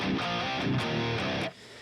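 Distorted electric guitar with a rock and metal tone plays a dense, sustained riff with several chord attacks, loud and close, then cuts off sharply near the end.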